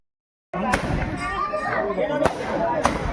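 Fireworks and firecrackers burst at a Bhim Jayanti festival celebration: about three sharp, loud cracks cut through a continuous rumble of crowd chatter and festive noise.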